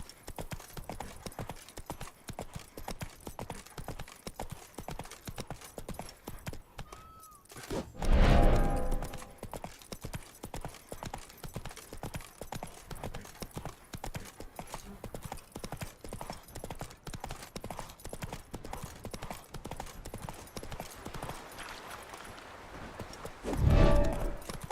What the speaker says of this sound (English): Roach will maintain her speed, so you don't need to hold down on the gallop button.